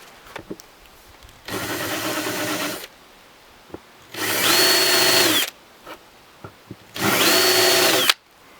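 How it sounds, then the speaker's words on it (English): A power drill fitted with a countersink bit works on a Walker Edison DW48D30 desk, making three loud, close whirring bursts of about one to one and a half seconds each, separated by short pauses with faint handling clicks. "I think I could just use a countersink bit, and that should work."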